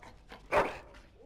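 A dog in the video game Dragon Age: Origins gives one short whimpering yelp near the middle, moderately loud, with faint background sound around it.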